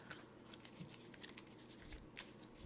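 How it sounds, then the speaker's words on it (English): Soft papery flicks and taps as a deck of Pokémon trading cards is cut several times on a table, quiet and close with light irregular rhythm. "Now we need to shuffle, so I'm going to just cut my deck a few times like so."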